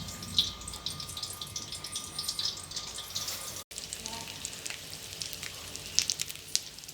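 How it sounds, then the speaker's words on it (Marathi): Stuffed eggplant steaming and sizzling in a pan over a low gas flame, a steady close hiss and crackle with a brief break midway and faint talk in the background. "आता त्याला आपण वाफेवर थोडं हे ठेवूया आणि बारीक गॅसवर शिजू द्या."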